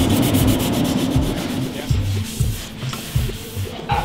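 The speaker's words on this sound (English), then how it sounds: "giving a final sand on the bond joint to make sure that it's perfectly smooth" The bond joint on a carbon fibre bike frame being sanded by hand, a steady, close, rough rubbing with rhythmic back-and-forth strokes that runs throughout.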